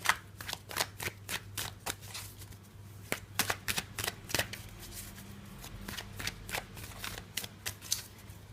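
Tarot cards are shuffled in rapid, crisp riffles and flicks, a steady run of close, sharp card snaps repeating throughout with no talking.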